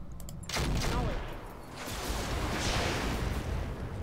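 Weapons discharging in a mech combat video game: a sudden loud volley of overlapping shots and blasts starting abruptly, then a sustained roaring rumble that swells again near the end, close and dense, with no talking.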